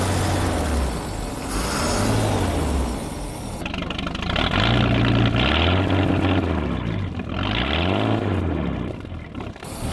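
A 1946 Century Sea Maid inboard boat engine runs on a garden hose feed, a loud steady rumble whose pitch swells and dips repeatedly as the throttle is blipped up and eased back, close and continuous throughout.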